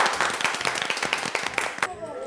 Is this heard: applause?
yes